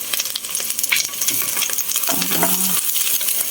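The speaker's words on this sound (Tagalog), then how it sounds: "Magprito tayo ng talong." Eggplant sizzles in hot oil in a pan, a steady crackling hiss with scattered pops, close and fairly loud, while a utensil clinks and scrapes against the pan midway.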